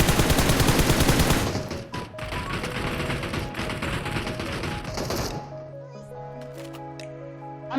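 Rapid automatic gunfire from a squad match of PUBG Mobile on the Erangel map, loud and dense bursts of shots for several seconds before cutting to quieter game ambience with tonal hum.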